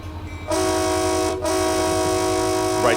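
A train rumbles steadily in the Run8 Train Simulator V3 game, with a sustained horn sounding loud and close, briefly dropping out before resuming over the continuous rolling engine drone.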